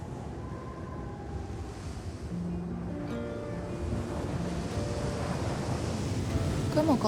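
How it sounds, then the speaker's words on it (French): Steady wind gusting across the Great Sand Dunes in Colorado, a broad rushing roar that builds louder over the stretch, with buffeting against the microphone and faint tonal hum in the background. "on peut sentir le vent qui souffle de plus en plus fort"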